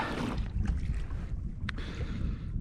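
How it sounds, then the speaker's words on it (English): Wind gusting over a kayak on a lake, a broad rushing buffet against the microphone with faint water sounds and a brief splash-like burst, heard close and without talk. "Definitely got a little more wind right now"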